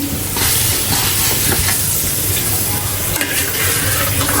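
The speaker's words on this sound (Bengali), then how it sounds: "মশলাটা এখন আমি কষিয়ে নিব" Spice masala for a dried fish curry fries in a pan with a loud, continuous hiss and sizzle, broken by soft stirring scrapes, heard close up without any talk.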